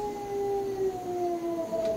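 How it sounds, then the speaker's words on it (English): A dog howls in a long, drawn-out, agonized wail with a steady, slowly falling pitch, heard from a distance near a farmhouse down a road at midnight. "a dog began to howl somewhere in a farmhouse down the road, a long, agonized wailing, as if from fear"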